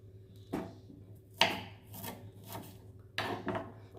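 Knife chopping banana flower finely on a board for soup, a handful of separate dry cuts and rasps in short bursts, close and fairly quiet, with no talk.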